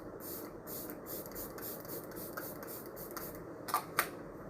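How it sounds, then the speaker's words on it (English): Several short hissing bursts of a facial setting spray (Mcobeauty Miracle Flawless Setting Spray) misted onto a face, repeated in a quick series close to the mic, followed by a couple of sharper clicks. "I'm just going to spray my face."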